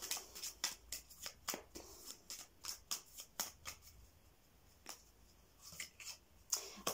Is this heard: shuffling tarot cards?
yes